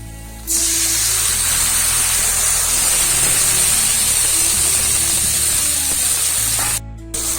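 Whole cumin and ginger-garlic paste hit a hot pan with onions for an egg curry, setting off a loud, steady sizzling hiss. It starts abruptly after a moment of quiet, holds nearly constant for about six seconds, then briefly dips.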